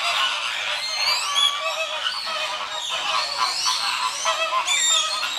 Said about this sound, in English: Duck family.